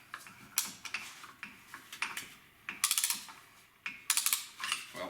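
Brake caliper piston spreader tool ratcheting, used while replacing front pads and rotors on a 2006–2010 Infiniti M45/M35: bursts of quick, crisp clicks in uneven clusters, close and fairly quiet, with no talking.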